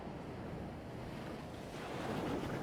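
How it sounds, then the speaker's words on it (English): Sea waves rolling in and breaking along a curved seawall at night, a steady close wash of surf with wind buffeting the microphone, swelling slightly louder toward the end. "You can see the waves coming down"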